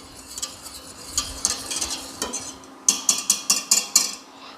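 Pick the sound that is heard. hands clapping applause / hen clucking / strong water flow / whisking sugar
whisking sugar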